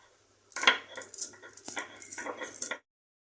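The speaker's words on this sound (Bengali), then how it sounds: "যেটা আমি ভেজে রেখেছিলাম শুকনো খোলায় সেটা আমি গুঁড়ো করে নিচ্ছি" Dry-roasted coriander, cumin and black pepper being ground to powder in a home kitchen, a close, rough grinding clatter lasting about two seconds in uneven bursts, with no talking.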